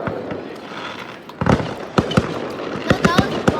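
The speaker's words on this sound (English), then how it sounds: "look at the fireworks" Fireworks on the Fourth of July burst in a rapid series of sharp cracks and booms at moderate distance, irregularly spaced, with people talking excitedly over them.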